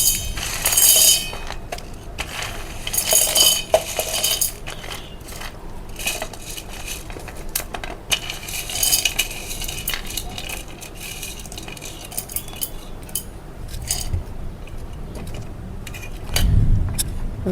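Peanuts and chana dal for a coconut and peanut chutney being ground in a mixer jar, loud rattling bursts of grinding alternating with quieter clattering and clinks, close up with no talk.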